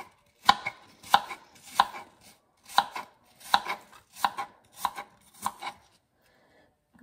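Apples being chopped for a mixed veggie salad, a knife striking a cutting board in about ten sharp, close, evenly spaced chops with short pauses and no talking.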